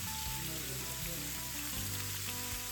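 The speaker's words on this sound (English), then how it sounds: "Add the ground beef and cook until it is nicely browned." Ground beef sizzles steadily in a mix of vegetable and olive oil, a dense crackling fry that holds an even level throughout with no talking.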